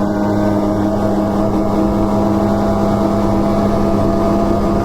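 A Polaris Assault snowmobile rides through snow with its engine droning loud and steady the whole time, a close, constant engine tone with no talk over it.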